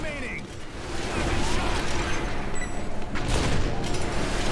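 Enemy gunfire in the video game Earth Defense Force 5 rattles as a dense, continuous fusillade of overlapping shots and mechanical clatter, loud and sustained across the whole stretch.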